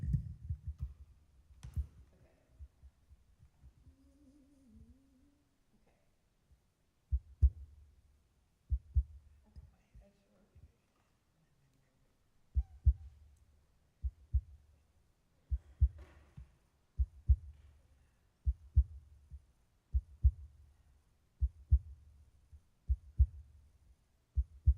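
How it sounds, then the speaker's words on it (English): Low, regular double-thump pulses like a heartbeat, quite loud and steady through most of the stretch, during a live lunchtime recital performance; brief faint tones and rustle come earlier, with no talking over the beats. "Oh my God, it's like my heartbeat."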